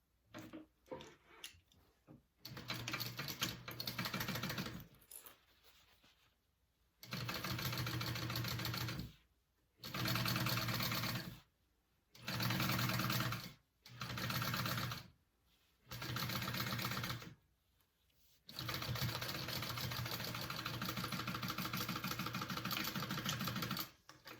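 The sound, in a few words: sewing machine stitching a bag panel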